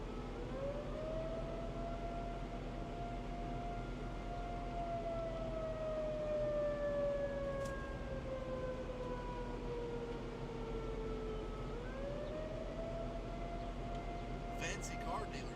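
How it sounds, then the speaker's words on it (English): A siren wails from a distance during a storm chase with lightning-sparked fires, rising and falling in long sweeping tones over a steady road rumble, with a short fresh rise near the end. "Yeah, I hear a siren."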